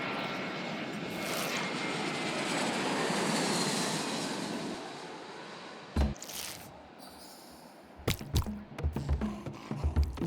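An airplane taking off in the video game Genital Jousting: a loud, steady engine roar that swells and then cuts off, followed by scattered clattering thumps and clicks.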